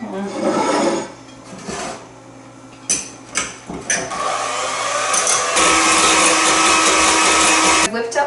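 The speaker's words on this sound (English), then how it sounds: "I'm just gonna start blending this with my hand mixer again." A hand mixer whips coconut cream for a vegan Black Forest cake, starting after a few brief knocks and then running as a loud, steady whirring buzz that holds for several seconds.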